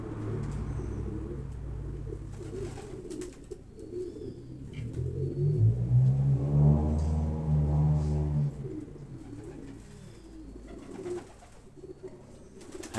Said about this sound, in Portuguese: Os três pombas aí.